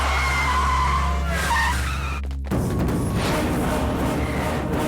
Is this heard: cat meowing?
no